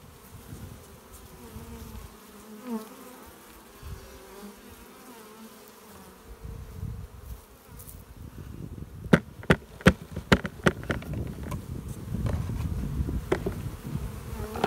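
Honey bees from a live hive sample buzzing in a soft steady drone, joined later by sharp knocks and rustling handling noises close by.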